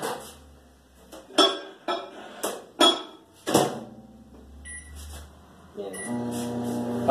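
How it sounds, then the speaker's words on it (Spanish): A microwave oven heating red cola gelatin: several sharp clicks and clatters as it is loaded and set, then a low steady electrical hum building as it runs. "Vamos a poner en el microondas."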